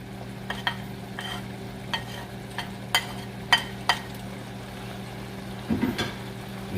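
Chicken liver is stirred in a pan for chicken bopis, with sporadic scraping clicks and taps from the utensil over a faint frying hiss and low hum.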